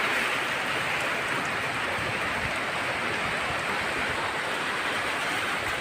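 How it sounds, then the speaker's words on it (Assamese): Sudden heavy rain falls as a dense, even hiss that stays steady and fairly faint for several seconds, with no voices. "বাপৰে হঠাৎ বৰষুণ।"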